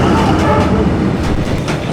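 A train rumbles loudly and close by along Hanoi's Train Street, a steady heavy roar of wheels and carriages filling the whole moment.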